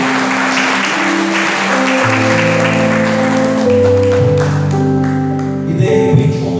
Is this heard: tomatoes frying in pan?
no